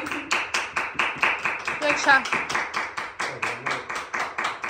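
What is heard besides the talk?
applause, clapping hands at a birthday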